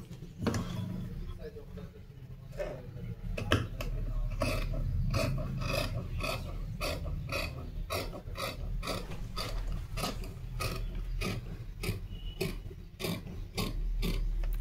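Scissors cut through blouse fabric at a tailoring workshop as a steady run of crisp, rhythmic snips, close and continuous, over a dull background of low room noise.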